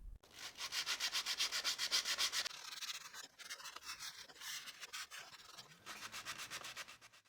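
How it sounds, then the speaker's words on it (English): Hand sanding a groove in reclaimed wood with 100 grit sandpaper, quiet close rhythmic back-and-forth rasping strokes in quick runs separated by brief pauses. "the groove area will be sanded with 100 grit sandpaper to clean it"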